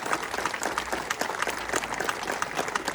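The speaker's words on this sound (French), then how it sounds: "On l'applaudit pas fort." Steady, moderately loud clapping from an audience at a ceremony for Dorian Foulon continues evenly throughout without a break.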